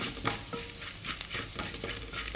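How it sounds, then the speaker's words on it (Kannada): Ground masala fries in a pan with chana dal, urad dal and curry leaves while being stirred, a continuous sizzle broken by scraping strokes of the spoon, close and moderately loud with no talking. "ಈಗ ಮಸಾಲೆ ಸ್ವಲ್ಪ ಫ್ರೈ ಆಯಿತು"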